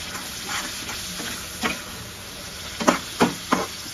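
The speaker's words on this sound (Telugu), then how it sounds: "ఇదంతా మంచిగా వేగి ఆయిల్ పైకి రావాలన్నమాట, ఈ మసాలా అంతా" Masala spices sizzle and fry in hot oil for egg curry, with a spoon stirring and scraping the pan in several short strokes over a steady hiss.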